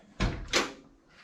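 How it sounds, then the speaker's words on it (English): A car door on a Chevrolet C10 truck shuts with two soft, muffled thuds in quick succession, close by and fairly quiet. "the door closes flawlessly without a hiccup"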